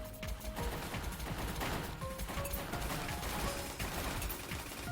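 Rapid, dense gunfire from the Golden Dragon fish-shooting arcade game rattles on without a break, layered with clicking mechanical game effects at a steady, moderate level.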